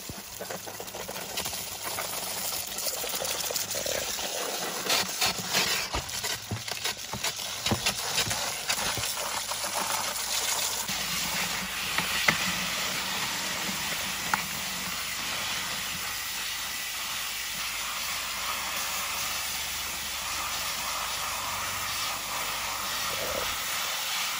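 A hose sprays water in a steady hiss, with irregular clattering and splashing as the stream strikes foraged black walnuts.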